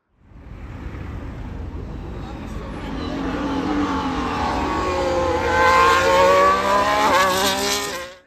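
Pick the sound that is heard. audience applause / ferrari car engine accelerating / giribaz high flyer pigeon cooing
ferrari car engine accelerating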